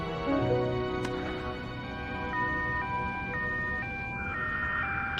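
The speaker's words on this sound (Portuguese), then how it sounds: "Por que tem som de ambulância?" Ambulance siren wailing in steady alternating tones throughout, fairly loud and continuous against a hospital-room background, with no voices over it.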